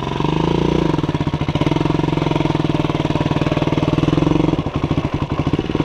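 Motorcycle engine on a rural road trip in Roraima, Brazil, revving hard and straining as the rider forces a downshift through a faulty gearbox, a loud, continuous, close-up pulsing drone that dips briefly near the end.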